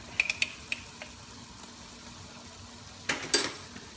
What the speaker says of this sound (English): Gonna give it a good mix.